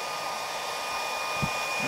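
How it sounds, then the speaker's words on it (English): A hair dryer blows steadily with a constant whooshing roar and a faint high whine, unbroken and close throughout. "what happens if we tilt the hairdryer?"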